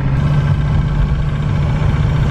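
A 1984 Mercedes diesel car engine runs at idle close by, a loud, steady low rumble with a rough, clattering diesel knock and no talk over it.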